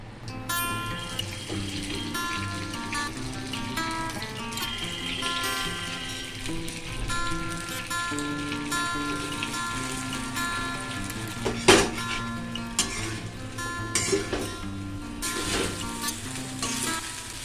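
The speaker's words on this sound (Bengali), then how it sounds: "এবার এই কড়াইতে আমি পাস্তাটা ভাজবো, একটু তেল দিলাম" Pasta fries in a little oil in a wok with a soft, steady sizzle. A few louder clatters and splashy bursts stand out near the end, and no one talks.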